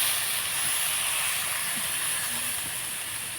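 Boiled banana flower and potatoes sauté in a pan with added water, a steady close sizzle and hiss with faint soft clinks of stirring underneath.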